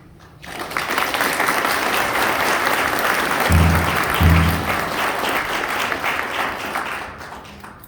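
An audience at a law school closing ceremony applauds to welcome the graduation speaker, sustained loud clapping from a large crowd that swells quickly and holds steady for several seconds before tapering off.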